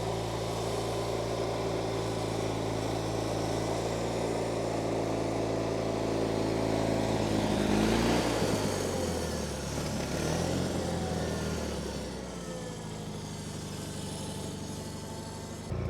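A 37-year-old John Deere 316 lawn tractor with a noisy twin-cylinder engine runs steadily close by, a deep continuous drone that swells slightly midway and then eases off, with no voices over it.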